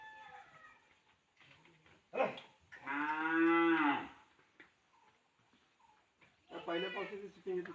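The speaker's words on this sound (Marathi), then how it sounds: "रानात फिरायला गेलेली ढोरं ती पण आली बघा" Cattle returning from grazing in the fields let out a few loud, drawn-out moos close by after rain, with quieter shuffling and faint voices between calls.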